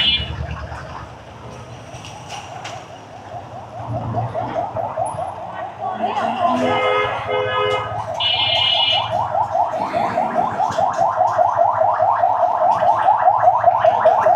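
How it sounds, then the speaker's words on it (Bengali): An ambulance siren wails with a fast, warbling repeated pattern in Bangladeshi street traffic. It grows louder as it nears, with road noise and traffic underneath. "অ্যাম্বুলেন্স আইতেছে নাকি আইতেছে,"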